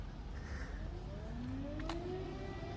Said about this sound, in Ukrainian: знову почалась повітряна тривога